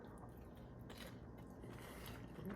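A crunchy fried onion ring, part of a heavy dish, gets bitten into. There are a couple of quiet crisp crunches over a soft, steady room hiss, with no talking.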